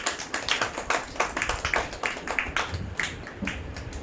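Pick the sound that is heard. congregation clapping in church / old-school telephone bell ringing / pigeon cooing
congregation clapping in church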